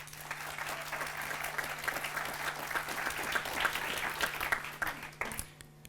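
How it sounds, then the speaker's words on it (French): A conference audience gives a round of applause for an event team, a steady wash of many hands clapping, moderately distant, building slightly before cutting off near the end. "Un tonnerre d'applaudissements pour l'équipe de Teatrum Mundi."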